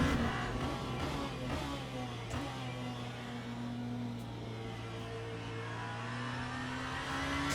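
Steady drone of a hypercar engine accelerating in the racing game Le Mans Ultimate, a sustained buzzy whine with occasional shifts in pitch, sounding synthetic and constant.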